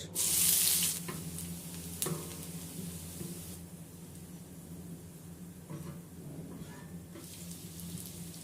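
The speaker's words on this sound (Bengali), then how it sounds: "এই তেলে পেঁয়াজ বেরেস্তাটা করে নিব। পেঁয়াজ বেরেস্তার জন্য দিয়ে দিচ্ছি পেঁয়াজ" Sliced onions frying in oil for birista, a steady close sizzle after a loud initial hiss as they hit the pan, with faint stirring scrapes through the rest.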